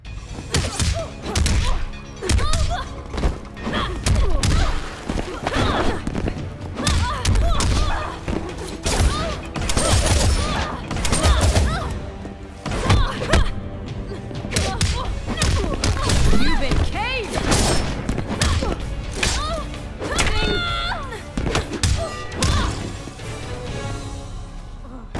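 Fight sounds from the video game Mortal Kombat XL, a dense barrage of punches, thuds, impacts and grunts throughout, loud and close over game music with voices.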